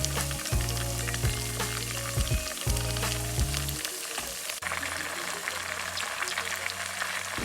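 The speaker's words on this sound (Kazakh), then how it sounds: "Пияз, картоп және де аздаған томат пастасын салып қуырып болғаннан кейін үстінен кішкене ғана тұзды қосып, жақсылап тағы да қуырып" Onion, potato and a little tomato paste fry in a pot for dolma, giving a continuous close crackling sizzle with occasional stirring scrapes and a low steady hum beneath.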